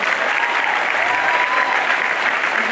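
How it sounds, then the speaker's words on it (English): A crowd at a college festival opening applauds, a dense, steady wash of clapping throughout. "Can we have a huge round of applause for that?"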